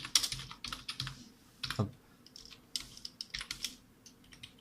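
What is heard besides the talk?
typing text on a computer keyboard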